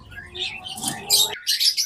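Budgerigar parakeets, a pair with three chicks, chirp and tweet in quick bright bursts at close range, with short pauses between the calls.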